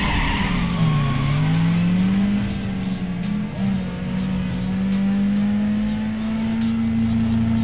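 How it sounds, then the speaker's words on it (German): A car skids off the track in the Need for Speed racing game, its tires letting out a long, loud, wavering squeal over engine drone, with no talking. "Also die Kiste ist gerade extrem ausgebrochen"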